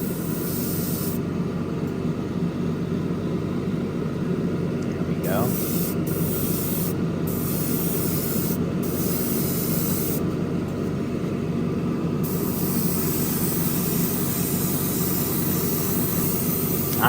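An airbrush sprays Stynylrez primer onto an AMT Corvette ZR1 model car chassis inside a spray booth, giving a steady, continuous airy hiss with low hum beneath it. A brief spoken remark comes partway through.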